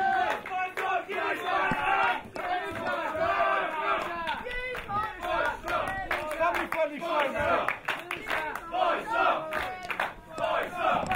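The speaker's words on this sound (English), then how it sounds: "the more punishment he takes, the more the crowd cheer for him" A wrestling crowd at an indoor independent pro show roars and cheers continuously after a near-fall, loud rowdy yells and chants with scattered clapping filling the whole stretch.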